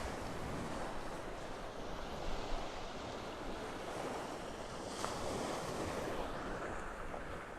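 Ocean waves wash steadily onto Vanderbilt Beach in North Naples, Florida, a continuous soft surf roar with light wind buffeting the microphone and no voices.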